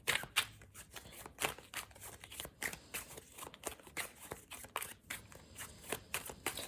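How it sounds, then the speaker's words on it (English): A deck of tarot cards shuffled by hand, heard up close as a steady run of crisp riffling bursts with no talking. "I'm just going to shuffle, we'll cut the deck, and then we'll lay out some cards."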